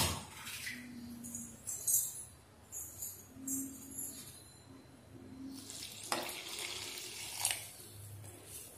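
Water runs and splashes into a bowl of drumstick-leaf bonda batter in several short pours, with faint clinks and stirring sounds in between, close by and moderately quiet.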